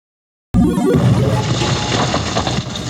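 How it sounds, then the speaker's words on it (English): A loud crash effect of Super Mario smashing through a roof bursts in after a moment of silence and carries on as a dense, clattering rumble of debris. "You get the actual sound effects of Mario smashing through the roof"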